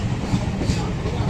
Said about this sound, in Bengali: এখন ডানকুনি জাংশন 1:50 এই হাওড়া বর্ধমান লোকাল ক্রস করছে